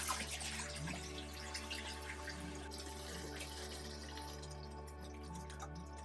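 Used acid-free film fixer poured out into a sink, with water running steadily and splashing as liquid drains, a continuous wash of trickling sound close by.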